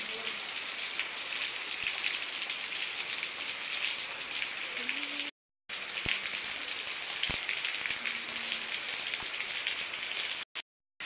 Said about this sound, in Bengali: এই যে পানি কিন্তু অনেক পড়তেছে, এগুলো আমাদের ছাদের উপর থেকে পড়তেছে। তো এই পাশে দেখেন অনেক বৃষ্টি হইতেছে।